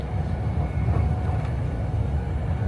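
A train runs on rails, heard from inside as a dense, loud, continuous low rumble and rattle with a faint clickety-clack texture, with no talking.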